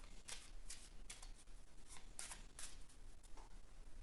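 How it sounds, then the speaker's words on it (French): A deck of playing cards is shuffled in a series of quiet riffling bursts, several short papery ruffles coming in an irregular rhythm at close range, with no talking. "J'ai ici un jeu de cartes que vous pouvez mélanger si vous le souhaitez."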